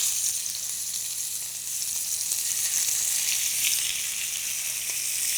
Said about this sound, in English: I'm going to sear these